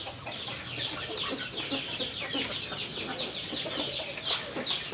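Chickens cluck steadily in a rural coop, several birds overlapping in a busy, close chatter that runs the whole time with no pauses.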